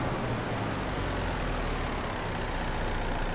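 Tractor engine running steadily in Farming Simulator 22 while working vineyard rows, a continuous heavy low rumble at even loudness with no talking.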